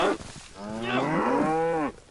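A single drawn-out cow moo from the survival game DayZ, loud and close, rising and bending in pitch for well over a second before cutting off, with no talk over it.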